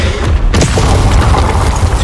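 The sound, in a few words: shot blast in Hogwarts Legacy video game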